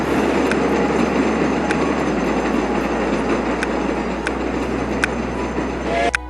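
Game trains in TrainStation 2 roll past in a steady, noisy rumble, with sharp rhythmic clicks spaced through the run and a brief squeal near the end, all close and without talk.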